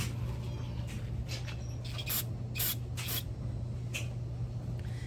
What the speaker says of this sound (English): he's just using standard carb cleaner